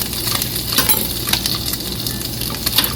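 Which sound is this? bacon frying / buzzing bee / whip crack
bacon frying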